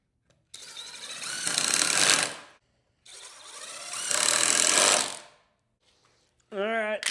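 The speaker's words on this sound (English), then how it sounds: "I'll shoot these lags down into it too to hold them tight." A power driver sinks lag screws into wood on a cart built for a 1967-72 C10 bed and cab. There are two loud, close bursts of roughly two seconds each, separated by silence, followed by a short rising motor whine.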